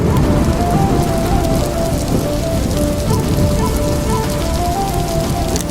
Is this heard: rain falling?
yes